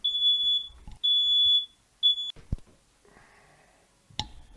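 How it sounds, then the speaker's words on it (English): An oversensitive smoke alarm set off by cooking sounds in a series of shrill high-pitched beeps, loud and close, with a few clattering knocks and thumps between them. "there goes the smoke detector"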